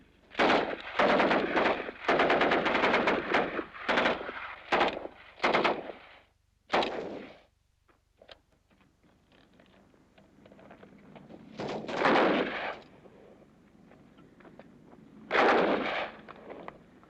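Rapid bursts of gunfire on a military shooting range, loud and close, come as several clustered volleys early on and then two more separated bursts after a quieter stretch.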